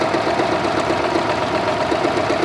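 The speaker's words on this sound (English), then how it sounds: "Look how smooth that is, going right through the machine. And I'm sewing over 2 layers of muslin." A budget beginner sewing machine stitches through two layers of muslin, giving a steady, even motor hum with a fine rapid pulse throughout, close up and with no talking.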